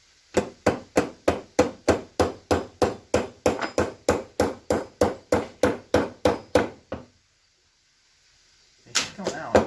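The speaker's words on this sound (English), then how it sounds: "back with the hammer" A hammer strikes a pin on a 1952 Clinton VS-700 small engine in about twenty sharp, evenly spaced metallic blows, close and loud, then stops before a few more knocks at the end.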